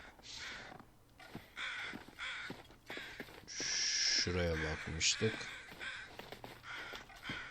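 Crows in the survival video game The Long Dark give a few harsh caws in quick bursts near the middle, set against quiet game ambience with someone talking over them.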